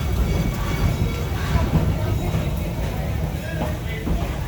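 A park railroad train ride at Six Flags St. Louis, the Tommy G. Robertson Railroad, gives a steady, continuous rumble of rolling cars throughout, with a narrator's voice talking over it.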